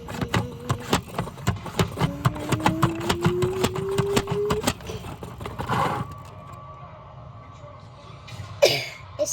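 A washing machine running a quick spin cycle, with a rapid series of rhythmic thumps and a rising whine that speeds up, then winds down to a quieter hum before a final clunk near the end.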